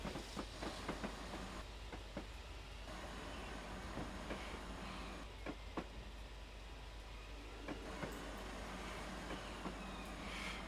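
A Castle Class steam locomotive on the Falmouth branch line comes in to stop, giving a steady rumble and hiss with scattered clanks and knocks close by, with a voice speaking faintly now and then.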